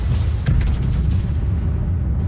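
Rapid secondary battery guns of a Großer Kurfürst battleship in World of Warships, firing as a dense, continuous barrage of booms with sharp cracks layered over a constant low rumble, loud and close.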